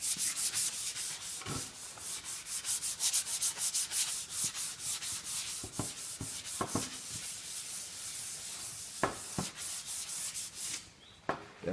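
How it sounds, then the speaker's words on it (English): Light sanding of a primer finish coat with a sanding sponge: continuous close, hissy rubbing strokes in a steady back-and-forth rhythm, with an occasional soft knock. "give it a light cut using one of these sanding sponges now, because I'm working on a finish coat"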